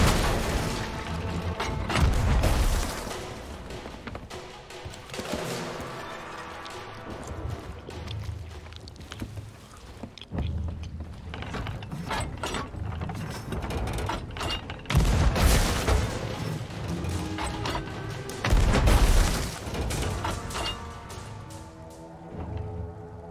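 Booming cannon blasts in the pirate video game Sea of Thieves, several heavy shots spaced through the clip amid creaking ship and water ambience, loud and close with no talking.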